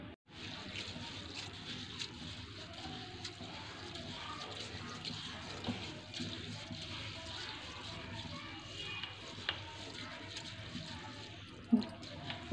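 Water runs and trickles as ingredients for a Bihari tisiyauri recipe are washed in a sieve, a faint continuous splashing and dribbling with occasional clinks close by.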